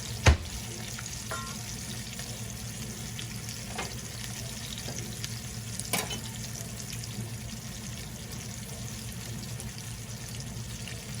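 Steak frying in a pan gives a steady, fairly loud sizzle throughout, with a few sharp clinks and knocks from handling the meat.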